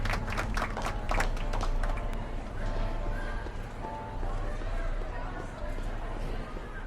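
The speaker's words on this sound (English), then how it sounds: "How about a round of applause just for the heck of it?" Crowd applause from the Back to the Future video game fills the scene, a dense steady patter of many clapping hands with brighter individual claps at the start, under a constant murmur of the crowd.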